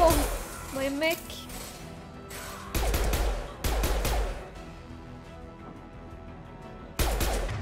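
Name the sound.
gunfire in the video game Mass Effect 2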